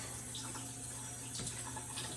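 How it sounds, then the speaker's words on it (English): Cold tap water runs in a steady, soft stream to rinse a whole raw chicken in a kitchen sink, with light splashing as it hits the bird. "I'm just gonna run some cold water in there, rinse this guy off"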